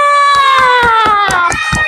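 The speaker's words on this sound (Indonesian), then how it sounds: "Ya, tepuk tangan untuk semuanya." Students in a classroom teaching session clap for all the groups in a quick, even rhythm of about seven sharp claps, sounding together under a loud, drawn-out, falling voice.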